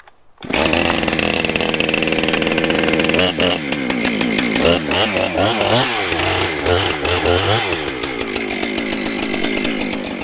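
A chainsaw cuts into a thick hedge stem during traditional hedge laying in Northern Ireland, starting abruptly and then running loud and close for about ten seconds, its engine pitch wavering as the chain bites into the wood.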